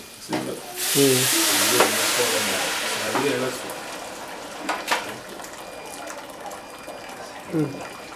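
Meat sizzles and spatters in a hot pan while pilau is cooked, a loud hissing fry that swells and fades, with a person speaking intermittently over it.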